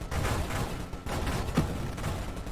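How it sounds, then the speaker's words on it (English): Continuous rapid minigun fire in the space shooter Nova Drift, a dense, steady stream of shots held for the whole stretch at constant loudness, with no talk. "the minigun is really easy to use. You just hold fire and shoot everything"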